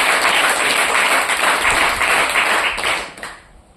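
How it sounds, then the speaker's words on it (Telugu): A large audience at a Telugu Christmas sermon breaks into loud, sustained applause, dense clapping that holds steady before fading toward the end. "కొట్టని చప్పట్లు గట్టిగా"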